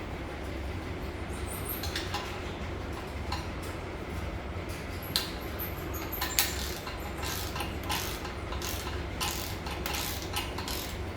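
Faint ticking of a socket ratchet working engine block bolts on a Cadillac 500 V8, scattered clicks over a steady low hum, fairly distant and quiet, with no voices.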